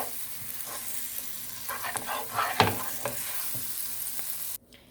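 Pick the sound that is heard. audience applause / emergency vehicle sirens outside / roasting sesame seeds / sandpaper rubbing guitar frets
roasting sesame seeds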